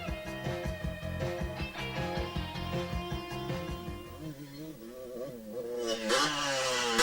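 A 1986 motocross motorcycle engine revs and rises in pitch as the rider works the throttle through whoops, loud and close, with steady harmonic drone and a sharp climb near the end.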